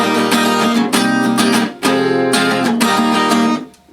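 An acoustic guitar strums open-position chords from a song, in a steady up-and-down rhythm with bright, ringing strings. The phrase repeats, with short breaks between strum groups, and plays clearly and up close with no talking.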